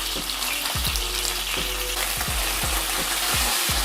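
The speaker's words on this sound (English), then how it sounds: "So we're gonna cook these for about 2 minutes per side until each side is golden brown." Bratwurst frying in a pan, a loud, dense close-up sizzle with repeated sharp pops and spits scattered through it, no voices.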